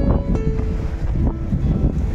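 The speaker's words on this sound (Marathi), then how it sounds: "पाणी उसळत आहे ना" Seawater surges and washes against a huge jetty being built out at sea during the monsoon. A steady, loud broadband rush of waves carries gusty wind noise throughout, with no voices.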